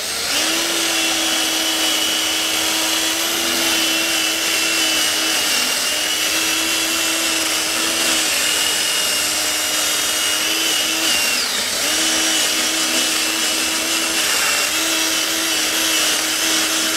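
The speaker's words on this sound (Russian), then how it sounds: "Продуваю, и все чистенько." Compressed air blasts out the front wheel hub of a 2000 Toyota Prius NHW11 1.5 during a bearing replacement, a loud continuous rushing hiss over a steady humming motor drone.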